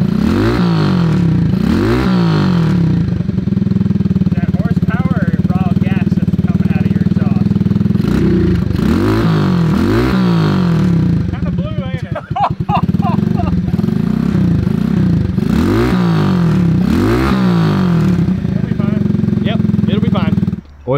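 Small 1970s Honda mini bikes with single-cylinder engines, one of them burning oil, putter and rev loudly up close. The throttle rises and falls in repeated bursts over a steady rumble, with brief pauses.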